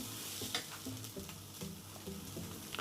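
Grated coconut and garlic sizzle in a hot pan as a spatula stirs them, giving a constant soft frying hiss broken by scraping strokes at a fairly even pace, quiet and close, with no voices.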